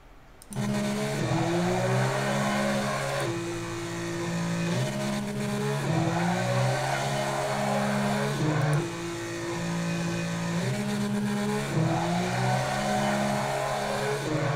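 A racing car in a modded driving video game holds a steady, loud engine drone throughout, its pitch climbing and dropping in repeated cycles as it revs without shifting gear, with no talk.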